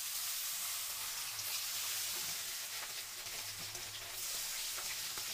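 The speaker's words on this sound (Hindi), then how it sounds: "ये पूरा तेल काला हो जाएगा तभी हम फिश को फ्राई करेंगे" Fish fries in smoking-hot mustard oil in a pan, a dense, continuous sizzle and crackle that holds steady throughout with nobody speaking.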